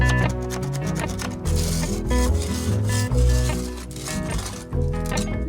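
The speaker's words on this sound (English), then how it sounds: "I'm starting by scraping off all the loose paint" Loose paint is scraped off an old window with repeated rough, rasping strokes. The scraping sounds close and steady, with a tonal background running beneath it.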